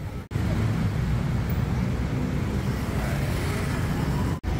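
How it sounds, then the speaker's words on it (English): Friday afternoon traffic rumbles steadily along Sukhumvit Road in Bangkok, in front of the Emporium Mall beneath the BTS line, a dense, continuous low roar of engines and tyres with no talking. "Plenty of Friday afternoon traffic."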